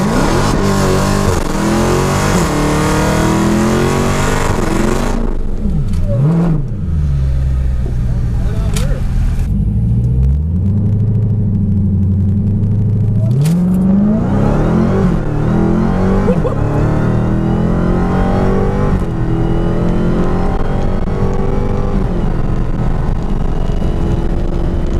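A stock Dodge Hellcat launches down a drag strip, its engine roaring loud and close with a rising, sustained revving climb through gear changes, continuous and forceful throughout.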